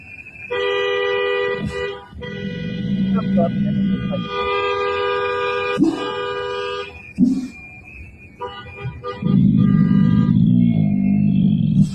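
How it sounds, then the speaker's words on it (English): Car horns honk in the street, several long steady blasts that overlap and sound loud and near, with short breaks between them and a background of crowd noise. "Not sure who's honking"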